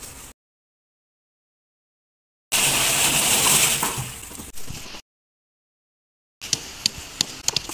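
Water rushes and gushes loudly for about two and a half seconds as a container is filled at home, then cuts off, followed later by brief, sharp tapping and splashing sounds.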